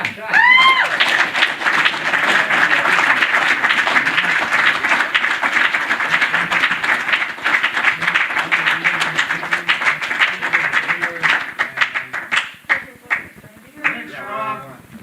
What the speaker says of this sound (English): You guys want to give another round of applause to Rob because he did such a fabulous job?